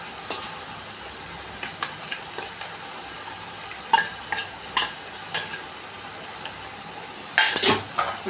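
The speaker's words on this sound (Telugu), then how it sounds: "ఇప్పుడు ఇదంతా కలుపుకుందాం ఒకసారి." A spoon scrapes and clinks against a pot as chicken with ginger-garlic paste and fresh raw coconut is stirred, with repeated metallic knocks over a faint sizzle, quiet and close.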